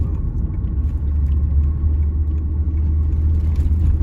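A car travels along a road. A steady, loud low engine and tyre rumble comes from inside the cabin and continues without a break.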